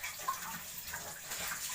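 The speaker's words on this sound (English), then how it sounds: "I rinse it again with running water" Bell peppers are rinsed under running tap water in a kitchen, producing a soft, continuous splashing hiss with small fluctuations as the vegetables move through the stream.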